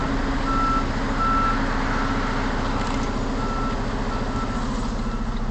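Repeated electronic reversing beeps from a truck backing a trailer at night in a truck-driving video game, steady evenly spaced tones over a constant engine idle rumble, no talking.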